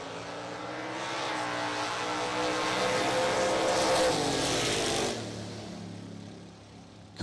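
Two drag-racing vehicles, a Ford Mustang and a Ford Ranger, launch at a bracket racing event, their loud engines roaring steadily for about five seconds before fading off into the distance.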